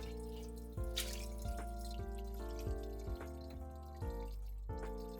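Water from a kitchen tap runs gently while the inside of a fish is washed for sashimi. A steady faint stream sounds alone, with soft splashes every second or so and a low background hum.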